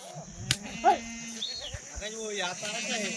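Kathiawadi goats in a farm shed, a few short bleats amid background voices and a steady electrical hum, close and moderately loud.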